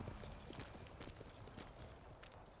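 Horse hooves clip-clopping in Ghost of Tsushima, a quick steady trot of soft thuds under ambient game noise, quiet throughout.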